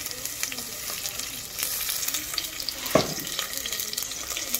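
Onions frying in sesame oil in a pan, an even close sizzle with soft scraping stirs. One sharper clack lands near the middle.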